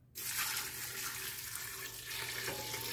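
Water gushes steadily into a container, starting abruptly and continuing as a strong, close pour of about one litre for homemade gelatin, with no talking.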